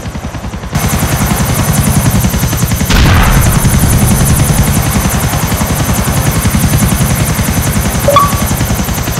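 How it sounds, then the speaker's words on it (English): Helicopter in the video game GTA IV, a continuous loud rotor chop with engine whine, steady and close, with a brief burst of extra noise partway through. "I'm going to get a helicopter and I'm going to take that guy off that building"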